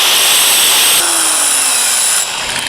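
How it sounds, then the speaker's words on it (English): A grinder spins a tungsten electrode for TIG welding inside a sharpening attachment that rotates on bearings, giving a loud, steady high-pitched grinding whine that runs continuously, shifting slightly partway through, with no talking. "it spins with the grinder because it got bearings in here"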